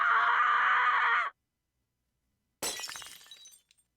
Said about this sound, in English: Shards of glass littered the floor. He had punched the mirror.